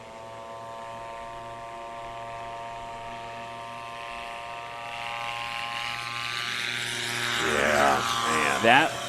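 A STOL airplane, likely a Storch-type, on a practice day at a small airpark runs its propeller engine steadily with a harmonic drone, rising in pitch and loudness toward the end as it takes off.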